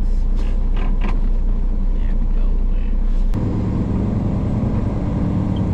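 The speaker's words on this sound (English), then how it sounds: "I don't know if y'all gonna be able to hear me because this truck is pretty loud." A loud pickup truck driving through West Texas, a heavy steady engine rumble and road roar filling the cab, with a person speaking over it.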